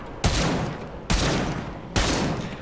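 Three heavy, booming shots spaced about a second apart from the Kuva Chakkhurr gun in the video game Warframe, each a loud blast with a long rumbling tail.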